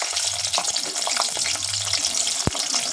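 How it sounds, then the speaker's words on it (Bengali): Large-cut onion pieces fry in heated white oil in a wok, giving a continuous close sizzle with soft stirring scrapes and one sharp clack near the end. "পেঁয়াজটা হালকা ফ্রাই হয়ে যাবে, সেইরকমভাবে আমি ভেজে নেব এটাকে"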